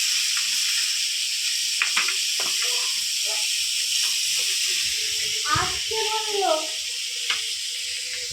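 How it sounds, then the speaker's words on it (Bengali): Chopped onion sizzles in hot oil in a pan where potatoes were just fried, a continuous hiss with crackles, heard under people talking. "পেঁয়াজ কুচি ভাজা"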